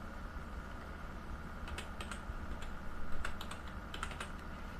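Typing on a computer keyboard while entering text into a Notepad HTML file, with scattered clicky keystrokes in short bursts over a steady background hum, no talking.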